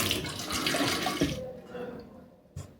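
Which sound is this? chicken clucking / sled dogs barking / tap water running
tap water running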